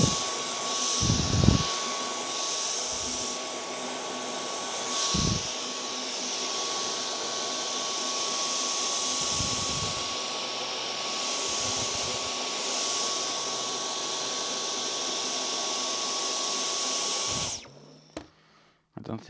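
A Dyson Power Mop running on a floor, a steady loud motor whine and whoosh with a faint high tone that holds for most of the time, then cuts off near the end; low thumps of handling occur along the way.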